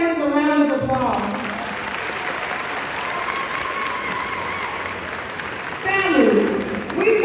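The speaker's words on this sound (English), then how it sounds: "Scholars, give your families a round of applause." Loud applause from an audience at an eighth grade moving-on ceremony, a sustained dense clatter of clapping with a voice speaking over the start and again near the end.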